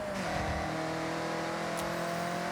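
A Toyota AE86 in the racing game Forza Horizon holds a steady, droning engine note with audible harmonics, moderately loud and continuous throughout, without talk over it.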